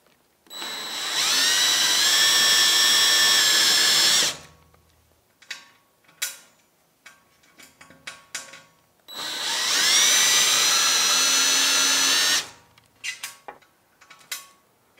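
Power drill boring holes into an aluminum bed for an X-Carve CNC machine: two long, loud steady drilling bursts of about three to four seconds each, with scattered clanks and handling noises between and after them.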